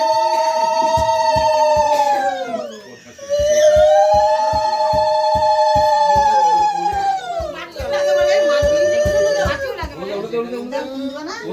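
A phone rings with a repeating melodic electronic ringtone in a busy home during a baby's rice-feeding ceremony, loud and continuous, with adults and children talking over it.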